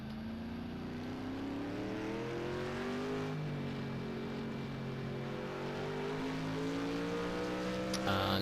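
A GT1 race car at Dubai Autodrome in a racing video game, its engine drone falling in pitch as it brakes hard for a corner, then climbing again, with faint talking underneath.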